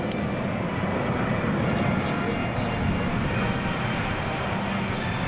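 A Boeing C-17 Globemaster III military transport roars in a constant, broad engine drone during an air show demonstration at Charleston Air Force Base, loud and sustained throughout.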